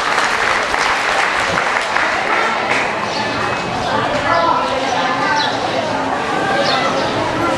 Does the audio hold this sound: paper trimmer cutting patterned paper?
no